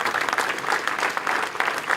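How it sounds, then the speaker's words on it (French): An audience claps together at a chamber of trades inauguration in Savoie, producing dense, steady applause from many hands that fills the room at a fairly loud level, without speech. "je vais vous demander d'applaudir"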